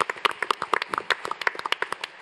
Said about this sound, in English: we should give the partners a round of applause